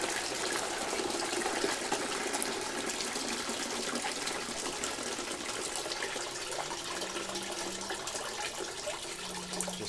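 Sanitizer solution pours out of an SLX400E soft-serve machine with its draw handles pulled down, a steady gushing, splashing flow of liquid heard up close and continuously, with no talking.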